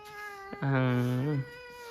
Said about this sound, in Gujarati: અમારી બિલ્લી અહીંયા હુતી છે